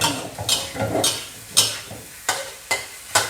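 Hot dog fried rice with egg is stir-fried in a pan. Loud, close scraping strokes of the spatula fall in a quick, regular rhythm over a soft sizzle.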